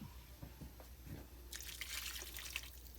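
A cup of water splashes and pours into a skillet of chicken and cauliflower, starting with a few drips and soft trickles, then turning into a steady, bright rush of liquid close by.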